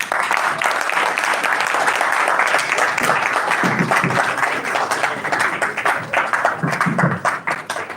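Audience applause for a technical presenter at a Nigerian-American Chamber of Commerce event, sustained dense clapping from a crowd for several seconds, with a few voices mixed in.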